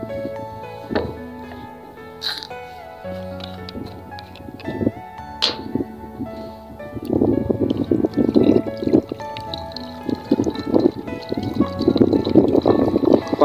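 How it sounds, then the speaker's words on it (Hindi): Water poured into a tractor at a farm, with a sloshing, gurgling fill that grows louder and steadier in the second half, among clanks and knocks close by; no talking. "और अब इसमें डालेंगे पानी।"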